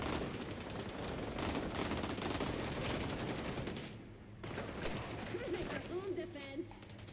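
Gunfire in the video game XDefiant: rapid, continuous bursts of shots at a steady rhythm, briefly pausing midway and then resuming more sparsely, with someone talking over parts of it.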